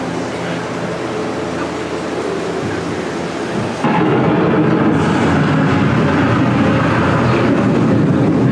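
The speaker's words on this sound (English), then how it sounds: "The approaching storm may seem violent and destructive to us, but to nature, it's a new beginning in the cycle of life." Staged thunder from an approaching storm on an indoor Epcot boat ride: a low, steady rumble that suddenly swells into a much louder, sustained roll partway through and stays loud to the end.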